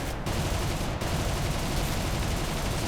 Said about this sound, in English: Look at all that gunfire.